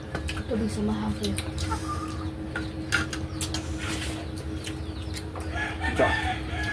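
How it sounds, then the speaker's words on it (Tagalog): Chickens cluck and a rooster crows close by in a rural outdoor setting, the bird calls repeating irregularly alongside people talking. "Ingay ng manok, mga idol."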